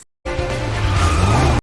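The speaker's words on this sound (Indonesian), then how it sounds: "Terjadi kejar-kejaran seru antara JJ yang ditemani Kate yang mengejar mobil Victor." Car chase in an action film, with a car engine roaring and tires squealing in one loud, sustained skid after a brief silence, cut off abruptly.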